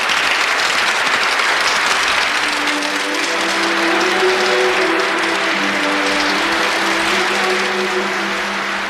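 Many hands clap together in sustained, even applause, standing in for children clapping to save Tinker Bell in a Peter Pan storybook reading. The dense patter stays steady and close for the whole stretch, with a faint musical tone underneath.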